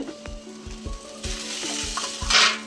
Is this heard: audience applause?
no